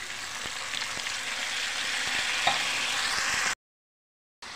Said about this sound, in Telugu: పచ్చివాసన పోయేదాకా ఫ్రై చేయండి